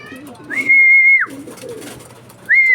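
Racing pigeons in Tiaong, Quezon give low soft coos, broken by two long, steady, high whistle tones, one sustained and one cut off at the end, heard close and clear.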